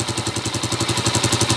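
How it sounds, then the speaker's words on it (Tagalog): An idling engine with a holed, leaking exhaust pipe chugs in a fast, even pulsing rhythm, close and steady, with a raspy breathy edge over the low throb and no voices. "Ayun na yung andar niya ngayon mga kabro. May singaw nga lang yung tambutso niya."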